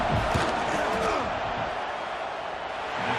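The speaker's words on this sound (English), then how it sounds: "This crowd trying to do its part to get inside the kicker's head." A football stadium crowd roars in a loud, sustained wall of noise as the opposing kicker lines up a field goal, a dense, distant-sounding wash of voices with no clear breaks.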